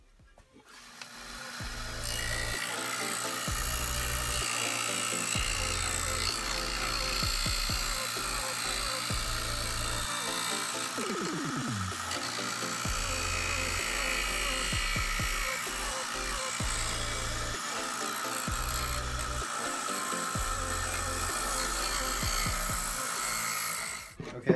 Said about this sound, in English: I use a belt sander and the circular part on the sander to actually shape my boards